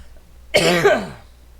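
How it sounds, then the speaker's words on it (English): A single harsh, close cough, loud and rough with a throaty rasp, fading out quickly. "Still coughing a bit, but I do my best."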